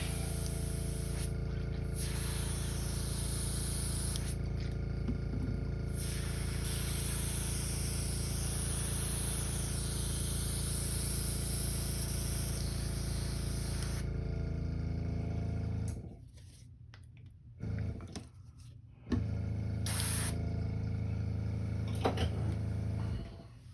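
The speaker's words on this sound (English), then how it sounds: "Clean this out of my airbrush." An airbrush sprays continuously while being cleaned out after painting a custom crankbait lure, giving a loud steady hiss for most of the stretch, then short broken bursts and pauses near the end.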